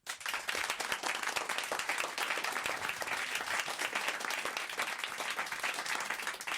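A studio audience bursts into steady, dense applause that carries on evenly throughout, with no voices breaking through the clapping.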